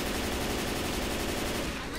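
Dense, sustained gunfire from Left 4 Dead 2 with a tank encounter nearby, a loud continuous wash of shots filling the whole moment without pause.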